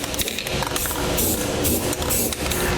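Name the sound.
spray paint can spraying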